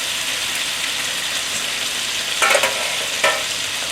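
Pork chop sizzles steadily in a hot frying pan, a continuous bright crackle with a couple of louder spatters near the end, no voices.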